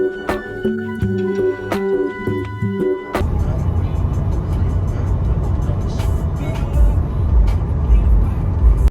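A Tesla Model Y Performance cruising on the road, its cabin filled with steady broadband road and tire noise after music cuts off in the first few seconds.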